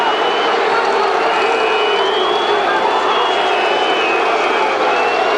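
A rugby stadium crowd at a 1992 South Africa versus Australia test sends up a sustained, loud roar of disapproving noise, broad and distant-sounding, with commentary speech over it.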